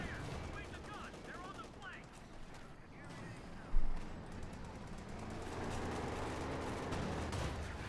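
Company of Heroes 2 battle sounds: dense gunfire crackles steadily, with a single heavier boom from a Panzer IV tank shot partway through, all at moderate distance.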